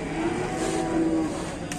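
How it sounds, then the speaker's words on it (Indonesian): A cow bellows very loudly in one long, low, drawn-out moo that holds steady before fading, with no talk over it. "Teriakannya sangat keras, suka teriak-teriak sapinya."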